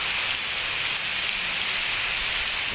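Rain falling in Islamabad and Rawalpindi gives a dense, even hiss that holds steady throughout at moderate level, with no clear thunderclap and no voices.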